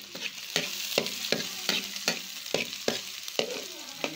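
Chopped onions for sisig sauté in a hot pan, a bright continuous sizzle broken by regular scraping stirs about every half second, close and loud with no talking.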